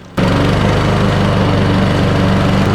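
A lawn mower engine starts abruptly and then runs at a steady, loud, throbbing drone.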